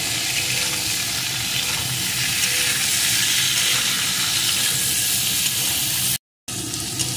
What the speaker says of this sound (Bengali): এখন এগুলোকে সুন্দর করে ভেজে নেব।